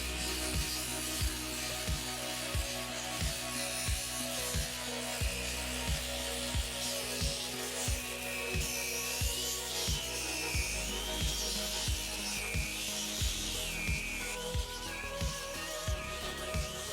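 A power tool spinning an abrasive disc at second speed strips old paint from a wooden bathhouse facade. A steady rasping whir runs throughout, with regular rhythmic thumps as the disc passes over the boards.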